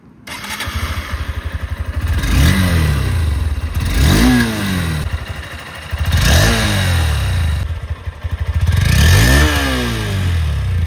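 A 2025 Honda NX200's single-cylinder, four-stroke, two-valve air-cooled engine revs up and down several times close by, each burst rising sharply then falling back to a thumping idle.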